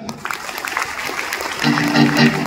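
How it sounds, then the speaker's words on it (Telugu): A seminar audience in Bhuvanagiri breaks into applause, a brief burst of clapping that swells toward the end while a voice talks over the start. "మా సీన్ సార్ కి ఒకసారి బిగ్ క్లాప్స్"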